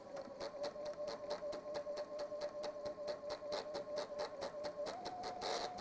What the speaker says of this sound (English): That bobbin is catching, isn't it, again?